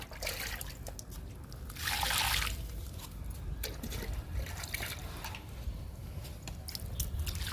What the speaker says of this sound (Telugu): చామంతులకి వాటర్ ఇస్తున్నాను.